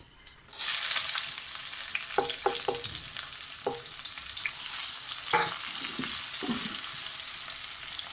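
Onions sizzle steadily in hot oil with cumin, green chilies and garlic, with several sharp clinks and scrapes of a spatula stirring the pan; no talking.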